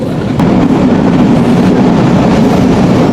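The Betna Express train between Khulna and Benapole roars loudly and continuously up close at speed, its wheels rumbling on the tracks with a steady low drone.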